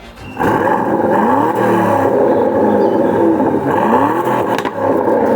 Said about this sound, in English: Let's have a listen to this engine. Start it up.